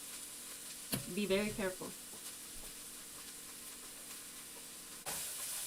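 Garlic sizzles in a soup pot for chicken soup, a steady frying hiss that suddenly grows louder near the end, with a brief spoken warning early on.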